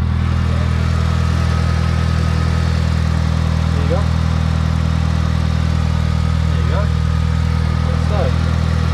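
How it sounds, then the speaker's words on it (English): Mitsubishi Evo with a 4G63T turbo engine, EGR delete done, idles steadily and loud throughout with a constant low rumble, with a few faint clicks and chirps above it. "It's idling fine."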